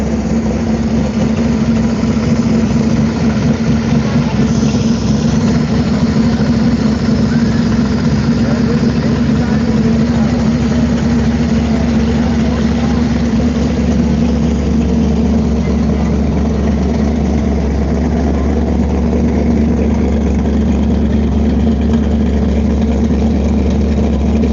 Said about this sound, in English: Somebody started a car here.